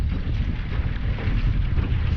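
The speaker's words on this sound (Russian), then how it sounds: "Ветерок дует, так вот будет лучше, наверное. На реке северный ветер." North wind blowing by a river, a loud, steady low rumble of gusts buffeting the microphone, continuous and unbroken, with no voices.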